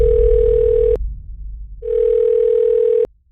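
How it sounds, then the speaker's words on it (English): A telephone rings with an incoming call: two long, steady electronic tones separated by a short pause, loud and close, then silence. "You get a phone call."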